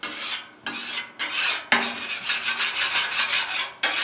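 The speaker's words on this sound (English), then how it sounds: "you're just going to do a quick scrape. Just get all the big stuff off here and scrape it down here" A metal spatula scrapes across a flat top grill, pushing debris toward the grease trap in several quick, harsh rasping strokes with short pauses between them, close and loud.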